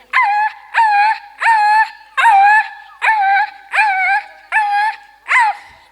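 A person mimics a puppy on stage at a school celebration, giving eight loud, close, evenly spaced whining yelps that each rise and then fall away.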